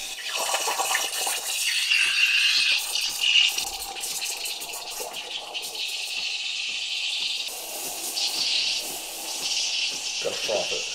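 A steam wand froths and heats milk for coffee, giving a steady, loud hissing and gurgling rush that continues almost unbroken, with faint voices now and then.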